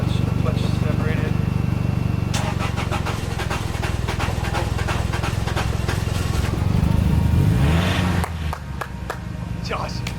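A car engine, its clutch separated and low on gas, cranks and sputters at a rough, uneven idle, loud and close throughout, while people talk over it.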